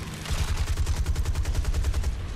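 Aircraft machine guns fire a long, rapid burst in the War Thunder video game, a loud, fast rattle of evenly spaced shots lasting about two seconds, with no voices.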